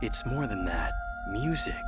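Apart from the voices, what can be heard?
No everyday noises stand out.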